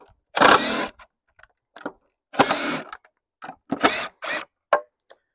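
A power drill backs screws out of one side of a cheap homemade wooden sawhorse in short bursts, two long runs and several quick spurts separated by silence, close and loud with no talking.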